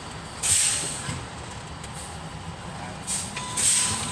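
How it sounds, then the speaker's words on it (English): Sharp hissing bursts of truck air brakes being pumped down release twice over a steady low engine rumble, the second burst longer and louder. "I'm gonna press my brake and fan it down, and it cannot go below 60 PSI"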